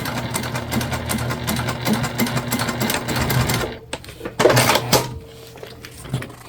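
A sewing machine stitches straight across the bottom seam of a fabric candy bag, running in a loud, steady whir before slowing into a few clunky, uneven bursts near the end.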